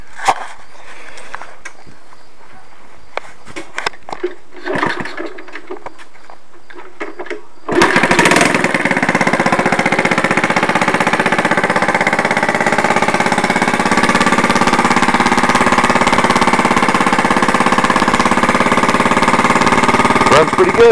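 A Honda CT70 small motorcycle engine starts up after some clanking and then runs steadily and loudly with a buzzing drone, with a minor exhaust leak.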